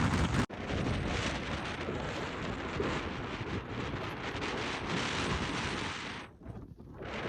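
Strong wind roars steadily across the microphone while climbing a hill in Upper Mustang, loud and continuous, buffeting for several seconds before briefly dropping away near the end.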